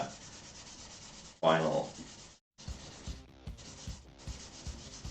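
Guitar neck frets being hand-sanded with 800-grit paper, a series of close, short rasping rubbing strokes in an uneven rhythm, with a louder burst and a brief pause, and a voice speaking briefly.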